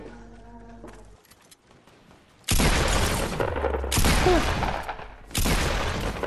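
Gunfire from the Fortnite Battle Royale video game comes in three loud, dense bursts of shots, separated by short pauses. Quieter tonal game sounds come before the first burst.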